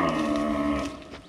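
A Brahman cow moos once, long, loud and close, its low droning call tapering off at the end.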